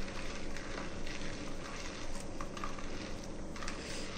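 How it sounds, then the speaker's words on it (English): Soft, steady scraping and wet swishing as chocolate chips are stirred into a frothy ice cream mixture in a bowl, a continuous quiet texture with faint clicks and no talking. "Mix this thoroughly."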